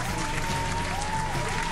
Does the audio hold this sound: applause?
yes